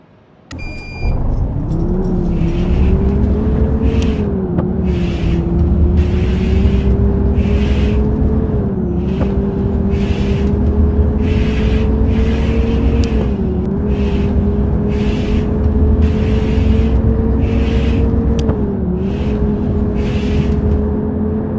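A bus in a bus simulator video game pulls away after a short quiet start, then its engine drones steadily and loudly, rising in pitch and dropping back at each gear change.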